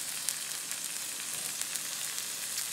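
Squirrel meat fries in a hot pan with a constant, fairly quiet hiss of sizzling oil and faint scattered pops, and no voices.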